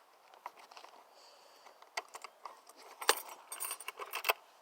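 Metal split ring being pried open and twisted onto a homemade duck decoy long line, giving faint, irregular metallic clicks and jingles close to the microphone, like keys on a keychain.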